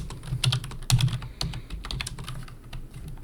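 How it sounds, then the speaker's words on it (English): Rapid clicking of keys on a computer keyboard, typed at an awkward angle, with bursts of close keystrokes that trail off into lighter taps. "I'm not used to typing at this angle."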